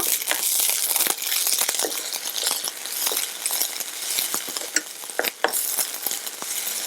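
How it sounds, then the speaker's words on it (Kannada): Ginger garlic paste fries in a pan with a continuous bright sizzle, and a spoon scrapes and stirs in frequent sharp clicks close up, with no talking. "ಈ ಶುಂಠಿ ಬೆಳ್ಳುಳ್ಳಿ ಪೇಸ್ಟ್ ಸ್ವಲ್ಪ ಹಸಿ ವಾಸನೆ ಹೋಗೋವರೆಗೂ ನಾವು ಸ್ವಲ್ಪ ಫ್ರೈ ಮಾಡ್ಕೊಳ್ಳೋಣ"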